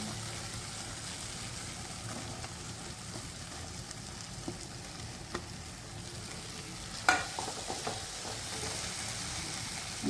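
Tomatoes frying with spices and cooked onion in a pan, a steady soft sizzle with faint stirring scrapes throughout, a brief clatter near the end.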